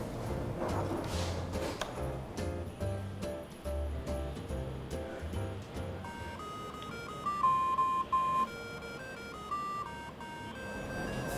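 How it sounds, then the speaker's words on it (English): An Arduino-built Christmas jukebox plays a festive song as simple electronic beeping tones, a bright melody line of clear steady notes over a busier, buzzy backing, continuous and fairly close with no voices. "an electronics project featuring an Arduino which plays festive songs and also flashes light in time with the music"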